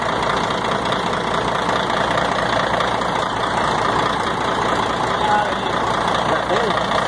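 A Volvo FH12 truck's diesel engine idles steadily with an even, low rumble throughout, close by and continuous, with no change in pace.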